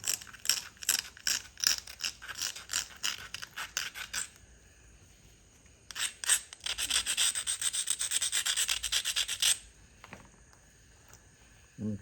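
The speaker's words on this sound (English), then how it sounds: "I'm gonna try to push these flakes" Texas agate rock being pressure flaked with a hand tool, close-up bursts of rapid scratchy rubbing and grinding, one short series then a longer sustained scrape, with no talk.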